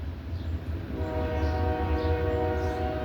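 A train passing behind a backyard, its horn sounding as a long sustained harmonic blast over steady low rumble, continuous and fairly loud for the whole stretch.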